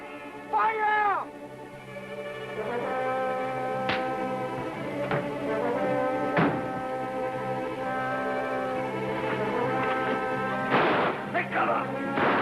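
Gunfire after a shouted order to fire, heard as several sharp, loud bangs spread across the scene amid shouting voices and sustained ringing, tonal background music.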